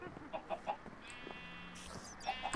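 An Ardite chicken in Minecraft Sky Factory 3 gives several short, close clucks in an uneven rhythm, with a whirring machine tone in the middle.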